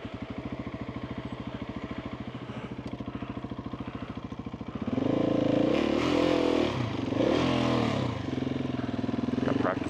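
A Husqvarna 701 supermoto fitted with off-road tires runs on Colorado dirt trails, its engine thrumming steadily before surging into a loud, close rev that rises and falls as the bike accelerates.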